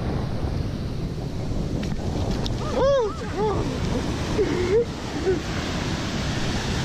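Strong wind buffets the microphone with a constant roar in Barbados, while a voice briefly speaks partway through over the gusting noise.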